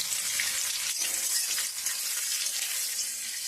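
Onions dropped into hot oil for a village-style desi chicken curry give a bright, continuous sizzle, close and steady throughout, with faint stirring and no talk.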